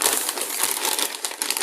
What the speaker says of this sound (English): You take your plastic bag like this.